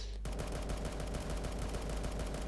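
An AA12 automatic shotgun fires continuously in the Roblox video game, a loud, dense stream of rapid shots that blur together without a break.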